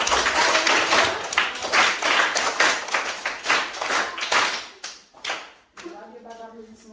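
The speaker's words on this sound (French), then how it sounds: "bravo, bravo, applaudissements pour lui" A small group at a children's camp claps for a child, close and rhythmic with distinct individual claps, thinning out over several seconds before a voice speaks at the end.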